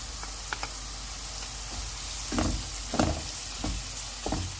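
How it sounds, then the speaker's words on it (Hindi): Onions frying golden in a pan, a steady sizzle under several louder bursts of crackling as they are stirred; no talking. "प्याज को हम गोल्डन फ्राई करेंगे।"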